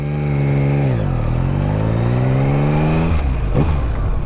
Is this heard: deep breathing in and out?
no